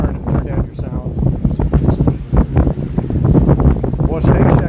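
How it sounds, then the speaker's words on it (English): Strong gusty wind buffets a phone microphone outdoors at Waikiki during a rainstorm, a loud continuous rumble with surging gusts; faint voices may sit beneath it. "it looks like that wind is whipping"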